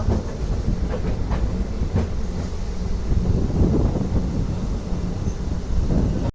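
DEMU passenger train running on a single-track line near Manoharabad junction, a loud continuous rumble with rhythmic clicking of the wheels over rail joints and some wind buffeting the microphone.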